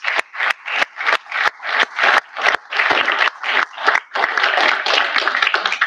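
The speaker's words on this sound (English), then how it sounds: "Can we just give them a round of applause?" An audience applauds faculty at a business and technology college recognition ceremony, the clapping loud and near, with several short bursts that swell and break off in an uneven, pulsing rhythm.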